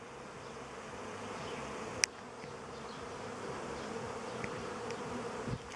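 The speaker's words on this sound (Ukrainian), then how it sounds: "такий льот пчіл." Honey bees flying around the hives of an apiary in May, a steady, even hum of many wings lasting throughout, with one sharp brief tap near the start and no talking.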